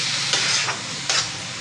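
Bell pepper chutney stirred and sautéed in a pan, with a steady low sizzle and a few brief scraping strokes of the spoon, close and alone with no talk.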